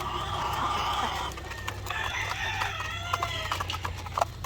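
White Leghorn hens clucking in a nest box at laying time; a run of close, raised, drawn-out calls with short clucks, over a low steady farmyard background.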